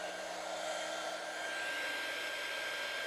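A strong stream of blown air dries alcohol ink art on a window pane, a continuous close whooshing roar with a steady high whine that never breaks for the whole stretch, with no talking.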